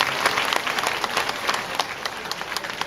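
A seated audience at a festival event featuring a mixed physically disabled group's performance applauds, a dense, even wash of many hands clapping throughout.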